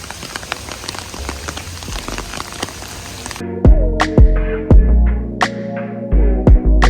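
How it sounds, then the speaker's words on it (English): Heavy torrential June rain in Japan patters densely for a few seconds, then gives way to louder, hollow drips and thuds close by. "torrential rain."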